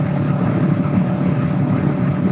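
A Kawasaki Eliminator 450 motorcycle engine drones steadily while riding, a loud, even low rumble mixed with wind rush and no speech.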